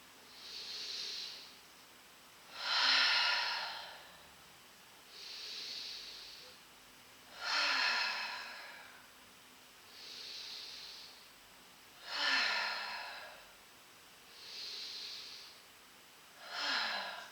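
Slow, steady breaths during a gentle shoulder and shoulder-blade mobility exercise on the floor, with long airy exhales alternating with softer inhales about every two to three seconds, close and quiet, with no talking.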